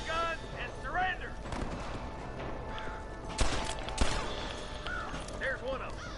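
A Red Dead Redemption shootout, with scattered gunshots cracking out, two sharper louder reports standing out among distant fire, while voices shout over the action.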